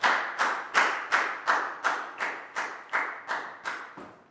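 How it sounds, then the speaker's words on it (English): A Year 4 maths class claps for a student, about a dozen sharp, evenly spaced claps in a steady rhythm, close and clear with no talk over them, the last one slightly softer. "High five and a big round of applause for Pak Bung,"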